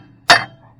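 A hammer strikes a blade pin on a Vermeer M6050 with one sharp metallic knock and a short ringing decay, followed by the start of a second blow, close and loud against a quiet low hum.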